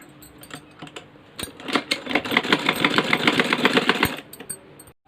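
Sewing machine stitching old denim jeans: a few slow needle thumps, then a fast rhythmic mechanical whirring run of about three seconds, close and clear, ending with a sharp stop and a final click.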